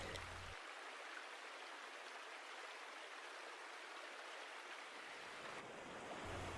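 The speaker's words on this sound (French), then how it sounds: "hypnotisé par le son que procure la cascade" A mountain waterfall roaring as a dense, steady rush of falling water, close and continuous throughout with no voices.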